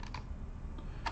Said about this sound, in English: And I can press all sorts of keys.